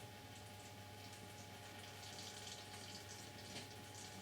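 Oil trickles and gurgles down into the sump pan of an Audi S4 with a 4.2 V8, a faint steady pouring hiss over a low hum, continuous and without talk.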